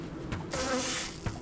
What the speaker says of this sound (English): Okay, some bees.